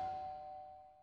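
A doorbell in a home chimes once: a faint, clear ding that rings on and slowly fades over about a second, with nothing else around it.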